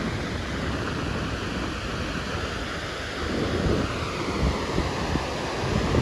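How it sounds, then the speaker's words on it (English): Water roars from the open floodgates of Table Rock Dam into Lake Taneycomo near Branson, a continuous heavy rush, a broad steady wash that swells louder partway through, with some wind buffeting. "I just really wanted to see the water coming out"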